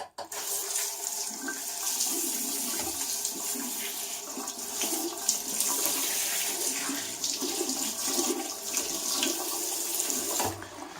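Tap water runs steadily into a bathroom sink for rinsing off after a shave, a continuous close splashing flow with small fluctuations and no speech.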